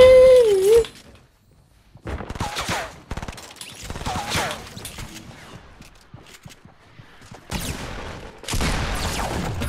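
Video game gunfire in a chaotic shooter match: bursts of rapid shots and heavy impacts come in several loud clusters, with a brief quiet gap near the start and dense firing returning at the end.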